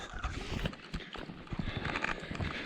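Horses walk through falling snow on a farm, giving a soft, irregular clip-clop of hooves, fairly faint and close, with light background noise.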